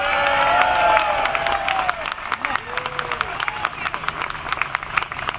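An outdoor crowd on a town green at a Fourth of July gathering claps and cheers, loud at first with whistles and voices, then thinning into scattered, fading applause and murmured chatter.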